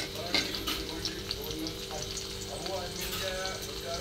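Green chilies fry in ghee in a kadhai, giving off a steady, close sizzle and crackle with small pops scattered through it.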